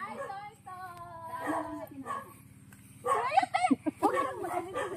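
A dog barks in several sharp bursts near the end, with people talking throughout and a steady low hum underneath.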